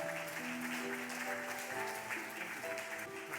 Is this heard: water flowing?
no